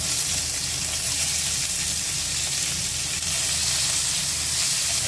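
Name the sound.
chopped onion sizzling as it is added to hot oil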